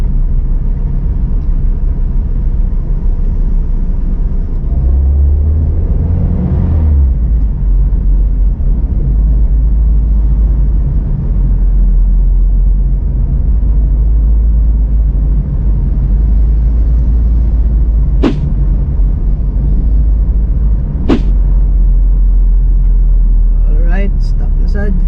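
City street traffic on Don Apolinar Velez Street in Cagayan de Oro, Philippines: a loud, steady low engine rumble fills the whole stretch, with a couple of brief sharp horn-like blips late on and people talking now and then.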